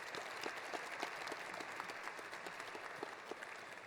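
Steady applause from the audience at an honor society induction ceremony, thanking the keynote speaker; the dense clapping is fairly quiet and distant and continues without a break for the whole stretch, with no voices over it.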